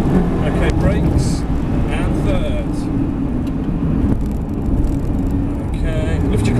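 A Ferrari 360 Spider engine drones steadily throughout the drive, a loud continuous roar filling the cabin, with faint tonal rises and a passing sweep of road noise.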